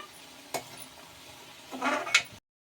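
Prawn pulao masala mixture being stirred in a pan: a sharp utensil scrape, then a longer scraping sweep over a faint, steady sizzle, close by with no talking.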